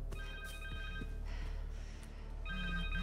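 A cell phone rings in the Spider-Man 2 video game, a steady electronic ringtone of repeating tonal beeps that starts, pauses briefly and resumes over a dense background of game music and ambience.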